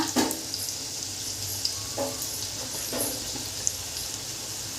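Breakfast pieces shallow-fry in a pan, turning golden brown. A steady close sizzle runs throughout, broken by a few scrapes and clacks as the pieces are flipped. No one speaks.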